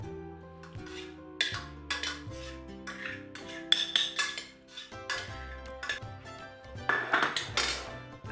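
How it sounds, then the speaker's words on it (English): A spoon scoops scrambled egg out of a pan in a home kitchen, making quiet, irregular metallic clinks and scrapes against the pan over several seconds, with no talking. "you can use the spoon you used earlier to dish it out and just scoop it on there"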